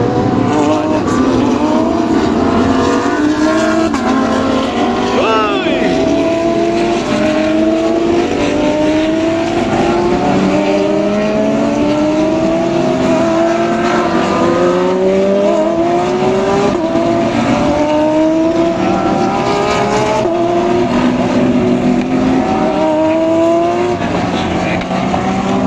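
GT World race cars lap a circuit, their engines a loud, continuous roar of overlapping harmonic sweeps as several cars rise and fall in pitch through gear changes and pass by.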